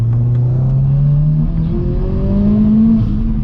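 A turbocharged Scion FR-S accelerating hard through second gear, its engine note rising steadily in pitch as a loud, close, sustained drone with no talking.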